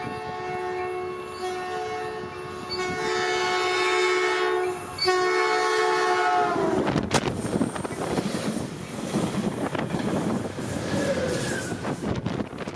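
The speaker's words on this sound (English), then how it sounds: "we hear northbound train 233 coming" Northbound train 233 sounds a long, loud multi-tone horn in several blasts, then roars past close by in a rushing rumble of wheels and cars on a summer day in California.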